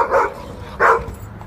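A dog gives two loud, close barks about half a second apart during a fetch game with a bucket beside a pool, with no one speaking.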